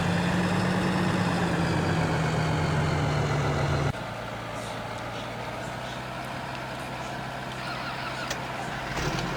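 Tractor engine idling during a rapeseed harvest and sowing job, a steady close drone with a low tonal hum that drops in pitch and loudness partway through, then holds evenly with faint clatter.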